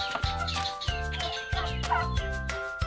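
Turkeys gobble repeatedly in loud, rattling bursts, several birds calling close by with little pause between calls.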